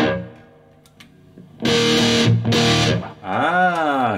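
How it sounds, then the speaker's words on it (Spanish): Electric guitar run through a Boss Metal Zone distortion pedal, heard as two loud, thick, saturated bursts of chords followed by a wavering, bending distorted note, after a quieter stretch of faint ringing. "Ahora estoy en el canal con distorsión y escuchen la diferencia"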